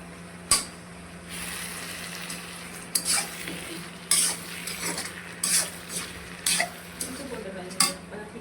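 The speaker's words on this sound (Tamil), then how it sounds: "மீனை ஒரு கிளறி கிளறி எண்ணெயில் போட்டு" Rock fish frying in oil as it is stirred: a steady low sizzle broken by sharp, close clacks of a utensil against the pan at irregular intervals, with no voices.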